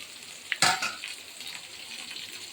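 Rasam powder, turmeric and spices stirred in a pan for tomato rasam, heard as a brief spoon clatter and scrape followed by a quiet, steady sizzle.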